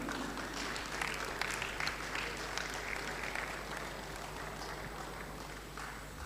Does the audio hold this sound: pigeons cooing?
no